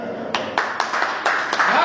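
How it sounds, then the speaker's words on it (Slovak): Audience applause at a village event, brisk hand clapping in quick irregular claps over about two seconds, close and loud. "Veľký potlesk."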